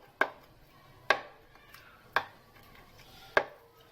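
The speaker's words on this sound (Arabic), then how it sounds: "هبدا اغزغزها كده زي ما حضراتكم شايفين بالسكينه عشان كل التوابل كده تخش فيها" A knife scoring raw chicken for roasting, four sharp separate cuts about a second apart, each a crisp close tap on the board against a quiet background.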